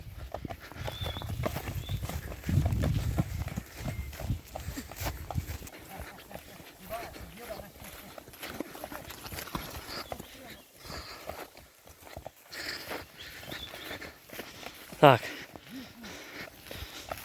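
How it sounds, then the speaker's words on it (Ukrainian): Horses walking to a watering place clop steadily on hard ground at a moderate distance, with people talking and outdoor noise around them. "Коні йдуть до водопою."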